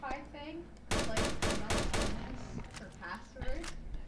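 Automatic gunfire from the video game Dread Scar, a slow run of about five loud shots in even rhythm, with someone talking before and after.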